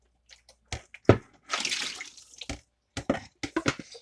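Cold salted rinsing water from onions dumped out, a short sloshing pour framed by scattered knocks and clatter of the container, close and moderately loud with no talk.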